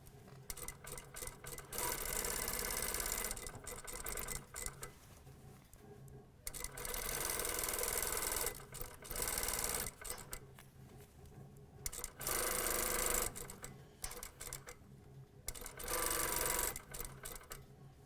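A sewing machine stitches down a vest front zipper, running in bursts of steady mechanical whirring broken by brief pauses. Quiet and close, with no voices.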